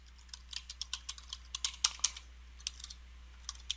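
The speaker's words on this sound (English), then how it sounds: "type in your Valencia College email" Someone types an email address on a computer keyboard, a quiet run of light, irregular key clicks close by. A steady low hum sits underneath for a few seconds.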